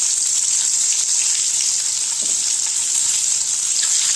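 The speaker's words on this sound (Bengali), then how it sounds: "তো তেলটা আমার গরম হয়ে গেছে, এবার একে একে আমি এই ডিমগুলো ছেড়ে দেবো।" Eggs frying one by one in hot oil in a pan, a constant bright, hissing sizzle close up and fairly loud, steady throughout with a faint clink midway.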